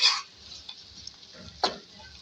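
Soft sizzling from garlic paste frying in a pan, with occasional stirring scrapes and a light clink of a utensil.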